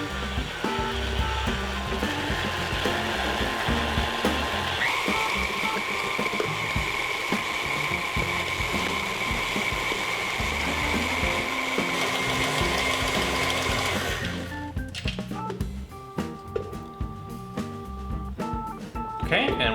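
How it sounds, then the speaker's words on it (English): A stand mixer kneads whole grain bread dough with a steady, loud mechanical whir and drone that holds for most of the stretch, then cuts out, leaving quieter clatter and room sound. "we will let this run for about 10 minutes in the mixer"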